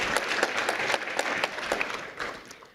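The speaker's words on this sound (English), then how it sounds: "One more round of applause for all of our Merit Prize winners." An awards ceremony audience applauds merit prize winners at a university business plan competition, a dense steady clapping that holds for a few seconds and then tapers off slightly.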